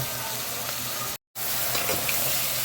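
Crab (alimasag) frying in butter in a pan, a steady close sizzle with a brief break midway before the crackling hiss resumes.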